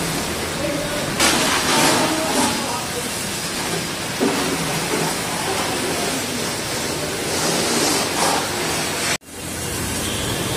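Water spraying and rinsing over a ceramic-coated car during a wash, a steady broad hiss of streaming water with a few stronger bursts, then a sudden cut near the end.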